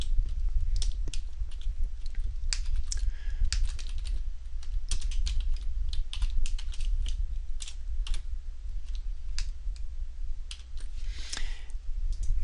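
Rapid, close typing on a computer keyboard while entering HTML code in Notepad++, with irregular bursts of crisp key clicks running continuously and no talking.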